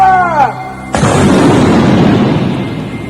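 A radio drama firing squad volley of rifles erupts as one sharp, loud crack, and its rumbling decay fades over a few seconds, just after a shouted command.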